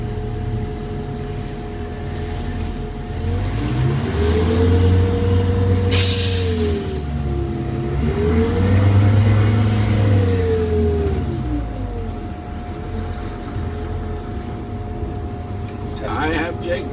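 Jake brake engine braking on an MCI5 bus rolling downhill, a deep rumbling drone that swells and falls in waves up close, with people talking over it.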